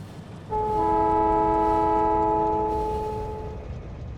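A train in the game Factorio sounds a long steady horn-like tone over a continuous low rumble of running rails, the chord holding for about three seconds before fading under the steady noise.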